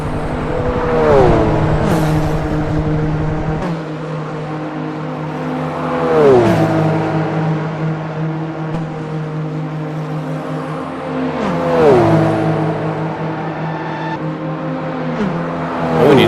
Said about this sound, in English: You just heard in the background one of the Mazdas